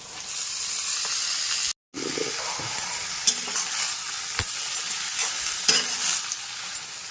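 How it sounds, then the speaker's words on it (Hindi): A steady, loud sizzle of garlic and onion tempering in hot oil, broken by a brief gap, with occasional stirring scrapes and a single spoken word. "लहसुन और प्याज का तड़का बनाया है"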